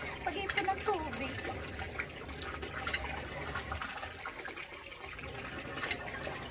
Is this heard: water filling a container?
yes